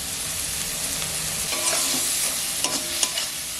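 Spice paste (masala) frying in hot oil with garam masala added, giving a steady close sizzle with a few sharp stirring clinks near the end, no voices.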